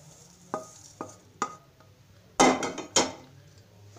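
Roasted fennel seeds being tipped and mixed into coriander in a metal pan, a few sharp clinks and scrapes of a spoon, then a louder cluster of rattling knocks, close with quiet gaps between.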